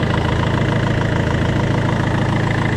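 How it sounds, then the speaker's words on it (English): A warmed-up Peugeot 407 2.0 HDi diesel engine idles steadily, a loud, close, continuous rumble with an even, unbroken rhythm. "The engine has been working for a while."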